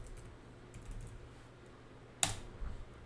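Enter key struck on a computer keyboard while installing software at a Linux terminal: one sharp, close click that stands out against a quiet room, followed by a few fainter small taps.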